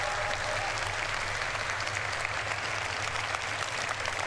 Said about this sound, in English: please, a round of applause for the developers